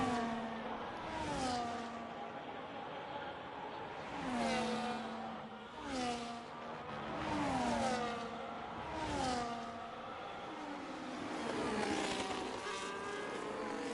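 F1 race cars from a racing video game run the Imola circuit. High-pitched engines whine and rise through repeated upshifts, with several cars overlapping and swelling in waves as they pass, loud and continuous with no talk.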